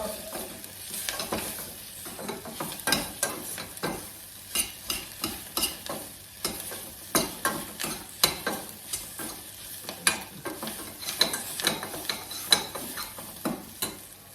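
A pan of bell pepper is stirred and sautéed for Antep-style stuffed peppers, with steady frying sizzle under repeated scraping and clacking utensil strokes, close and fairly loud, with no talking.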